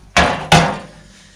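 A small hammer gives two sharp taps on the water pump of a Mercedes 406D, each a close metallic knock with a brief ringing decay.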